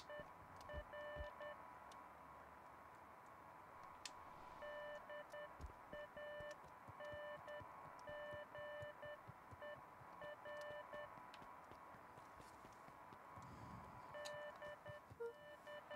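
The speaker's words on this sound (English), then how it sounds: "A faint electronic sound floated in the air." Faint electronic beeping in the Beacon Pines video game comes in short, evenly spaced tone bursts and pauses like Morse code, quiet and distant over a low ambient hum, with no voices.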